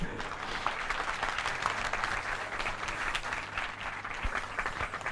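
A comedy show audience at the Islamabad Literature Festival breaks into applause, a dense, steady round of clapping with a few sharper claps poking through, sustained for several seconds before easing slightly.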